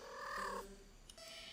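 A cat in a video game purrs softly and steadily, quiet and close, with no other sounds around it.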